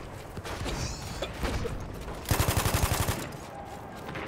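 An MG14/17 machine gun fires a rapid, evenly spaced burst of about a dozen loud shots in the Battlefield 1 video game on the Amiens map, over a busy battlefield din.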